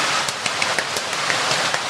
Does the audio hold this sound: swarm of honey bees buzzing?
no